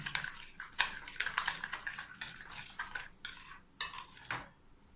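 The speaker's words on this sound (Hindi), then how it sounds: "थोड़ा सा मैं इसको क्रीम को मज़ीद फेंट लेता हूँ" Cream is whisked with sugar in a bowl, a close, quick run of uneven metallic clinks and scrapes with brief pauses and no voices.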